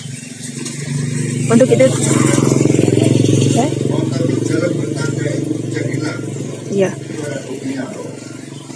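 Motorcycles passing along a road after rain: a loud engine buzz swells and fades nearby, with rattling and scraping in the background and someone speaking briefly.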